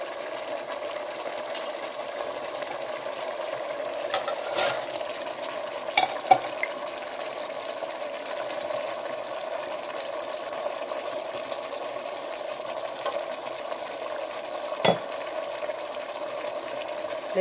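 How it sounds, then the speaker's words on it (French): Salted fish is stirred into a frying eggplant sauce, giving a steady, soft sizzle with occasional light scrapes and clinks, close and unbroken, with no talking. "Là, maintenant, je vais ajouter le poisson salé."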